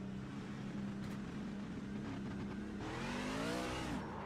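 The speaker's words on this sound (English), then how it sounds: "Because the trucks are really loud." Racing truck engines in a video game drone and rev over a steady roar, with one rising in pitch near the end as it accelerates; fairly faint overall.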